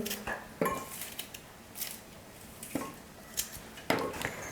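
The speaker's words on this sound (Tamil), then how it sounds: "இப்போ இந்த தேங்காவை சின்ன சின்னதாக கட் பண்ணி மிக்ஸி ஜாரில் சேர்த்துக்கிறேன்." A knife cuts coconut into small pieces, clicking against a board or bowl at an irregular pace, with a few sharper cracks amid soft kitchen clatter.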